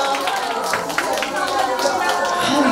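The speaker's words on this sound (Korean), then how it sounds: "박수 한번 하고 싶네요." An audience applauds at a Korean talk concert in Gangnam's 640 Art Hall, a dense, steady wash of clapping that fills the room while people talk over it.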